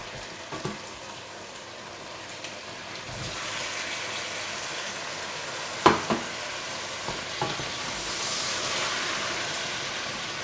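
Ginger, garlic, cashews and green chilies frying in a pan, a steady low sizzle with occasional sharp clinks and stirring scrapes, growing slightly louder and brighter toward the end.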